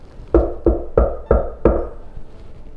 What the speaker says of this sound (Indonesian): Di depan rumah Randy terdengar suara ketukan